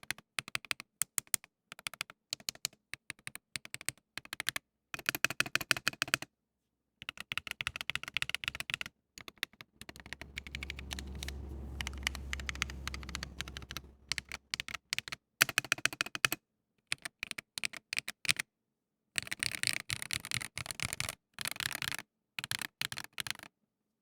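A modded GamaKay K66 mechanical keyboard clatters with fast, crisp key clicks in bursts separated by brief pauses, and a deeper thud from the space bar is heard now and then.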